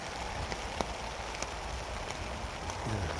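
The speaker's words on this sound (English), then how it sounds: "I'm sure you can hear the rain." Rain falling on a tent and tarp in the woods, a steady patter of drops with occasional sharper taps against the fabric, close and even, with a faint low rumble building near the end.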